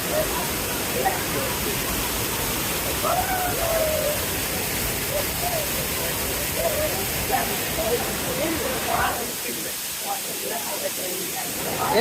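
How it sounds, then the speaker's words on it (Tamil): Steady roaring rush of falling water at Hogenakkal Falls, India, fills the scene, with voices talking over it throughout. "ஃப்ரெண்ட்ஸ் பார்த்தீங்கன்னா மெயின் வாட்டர் ஃபால்ஸ் வந்தாச்சு."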